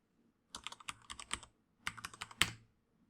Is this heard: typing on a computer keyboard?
yes